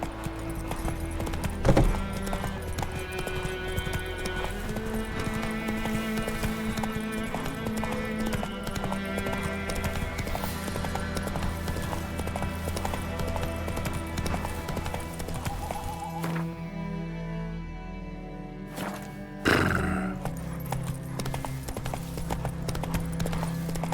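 Roach, a horse in The Witcher 3, galloping with steady clip-clop hoofbeats under game music, with a brief snort or whinny near the end.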